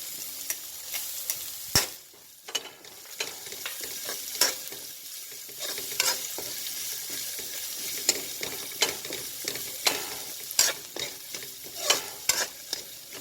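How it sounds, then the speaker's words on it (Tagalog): Onions frying with squid in a hot pan for adobong pusit, a continuous sizzle broken by repeated scraping stirs and knocks of the utensil against the pan, close up with no voices. "Golden brown na po siya, lagay na po natin ang sibuyas o onion."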